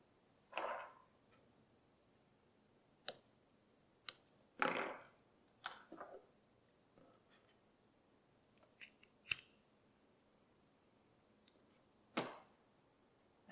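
Scissors trim leftover thread after stitching a laser-cut bi-fold leather wallet, several sharp close snips and clicks scattered across a quiet room with pauses between cuts.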